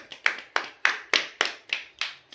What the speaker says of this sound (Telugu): ఓకే, క్లాప్స్ కొట్టండి ధృతికి